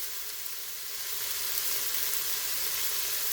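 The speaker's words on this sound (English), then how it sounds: "So we're just going to stir this around, put a nice little sear on there for a second." Chicken sears in a Pampered Chef Quick Cooker, giving a steady, loud hiss and crackle of frying that holds evenly for a few seconds without talking.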